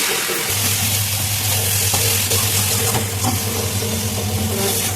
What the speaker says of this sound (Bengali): নাড়াচাড়া দিয়ে ভালো করে কষিয়ে নিলাম